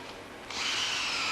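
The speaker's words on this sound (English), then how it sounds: "Having drilled the holes, we can start to insert the dowels." A power drill bores a hole for a wooden dowel, a short burst that jumps from a soft whir into a loud, sustained high-pitched grinding as the bit bites into the wood.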